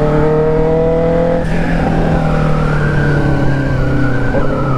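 A Yamaha XJ6 turbo motorcycle revs hard on a race track, its engine note rising in pitch as it accelerates, loud and close with a steady, continuous drone.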